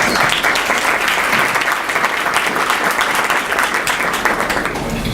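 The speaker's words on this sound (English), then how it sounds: "Please give him a round of applause." An audience at a county business forum applauds as the police chief is introduced, giving loud, steady, sustained clapping from many hands that fills the room for the whole stretch.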